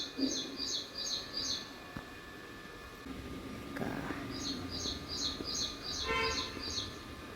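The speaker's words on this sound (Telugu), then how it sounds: "పక్షులు చూడండి ఆడుకుంటున్నాయి ఒకటి రానే వచ్చింది" Birds chirp outside during rain: repeated bursts of quick high tweets come in clusters at the start and again later, fairly clear over a soft steady background hiss, with a brief thud in the middle.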